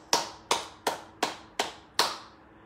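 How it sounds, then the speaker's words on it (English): Hands clap during a church worship service, six sharp, separate claps in an even, unhurried rhythm. Each clap rings briefly in the room before the next, with no speech over them. "Let's give the Lord a hand clap."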